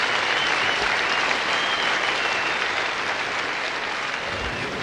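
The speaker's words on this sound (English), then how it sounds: "Big round of applause as he departs here." A cricket crowd at a 1985 Sri Lanka versus West Indies match gives a batsman a sustained, even round of applause as he leaves after being run out, with dense, continuous clapping throughout.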